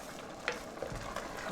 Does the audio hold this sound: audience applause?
no